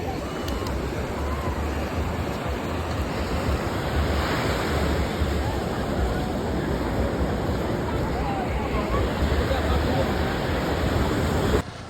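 Waves breaking on a beach in Goa, a continuous loud wash of surf with wind buffeting the microphone and faint crowd noise in the distance.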